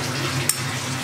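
Paneer being stirred into gravy in a pan: a brief, dense sizzle with one quick utensil clack near the middle.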